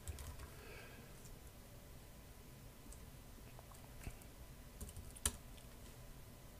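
Fingers type on a computer keyboard during a Unity3d coding session. The keystrokes are faint and sparse, with a few louder taps near the end, in a quiet room.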